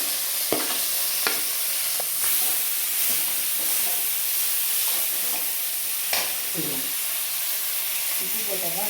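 Tomatoes tipped into a hot frying pan, steady loud sizzling and hissing throughout with occasional stirring scrapes and clatters of the spoon, close up; faint talking in the background.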